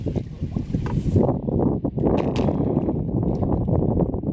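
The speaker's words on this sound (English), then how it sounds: "Here, I'll show you this gust coming up." Blustery wind rumbles and buffets across an open lake, a loud, rough roar with choppy low gusts and some water slapping nearby.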